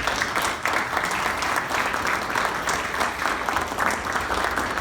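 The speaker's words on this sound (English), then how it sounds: "I think that deserves a round of applause." An audience breaks into steady applause, a dense wash of clapping hands at moderate distance that holds evenly for a few seconds without any speech.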